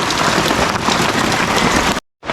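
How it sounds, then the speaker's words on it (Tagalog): Steady heavy rain pours down outdoors during a rainy-day cooking session, a dense continuous hiss close by that cuts off abruptly near the end. "Ay, ulan. Wala ayaw tumigil."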